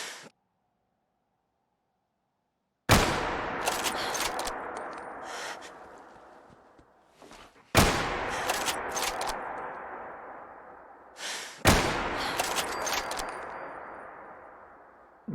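Rifle shots in the video game Fallout 4 on Survival mode, .308 rifle: three loud, sharp reports spaced a few seconds apart, each ringing out in a long decaying echo, with a quiet lull before the first.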